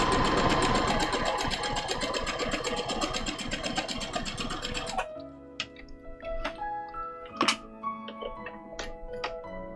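A sewing machine stitching a cosplay costume runs in a fast, even mechanical whir for about five seconds, then stops, leaving scattered clicks and handling taps close by.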